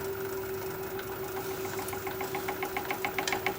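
Wood lathe spinning a piece of red bud wood at slowed speed while a bowl gouge cuts it, a steady humming drone with a rougher rhythmic chatter building toward the end, close and continuous.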